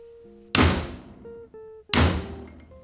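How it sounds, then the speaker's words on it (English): A hammer drives a chisel into a propeller shaft nut on a long tail mud motor, giving two sharp, loud metallic blows about a second and a half apart, each with a ringing decay. "I'm hitting at a downward angle when I go ahead to split this nut. Get my chisel on there."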